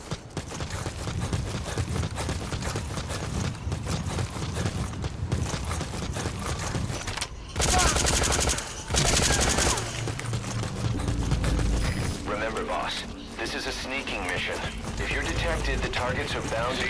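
Unsuppressed gunfire in Metal Gear Solid V: Ground Zeroes pops in dense, loud bursts over a busy game mix, broken by a few short pauses, with voices talking throughout.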